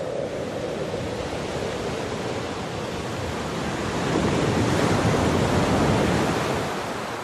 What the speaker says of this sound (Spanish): El sonido del mar es paciente y va pasando a primer término poco a poco